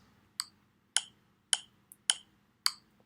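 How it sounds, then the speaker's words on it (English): Sharp metronome clicks from the Bounce Metronome app's basic click sound, five evenly spaced bright ticks about half a second apart, close and crisp against near silence. "the only sound that you can use is click"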